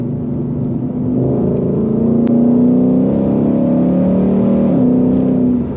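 A Ford Shelby GT350 Mustang's engine holds a loud, steady, droning note as it accelerates on a road with damp patches, the tone climbing slightly, heard from inside the car with no talking.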